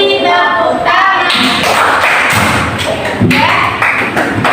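Children in a classroom clapping their hands along to a sung action song, a series of loud, close claps and thuds mixed with singing voices.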